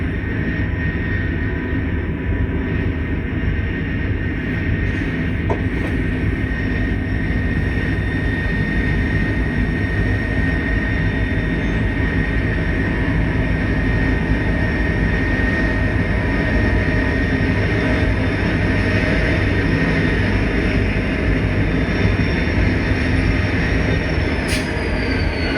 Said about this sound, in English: And before the first train is fully in the yard, another one heads out.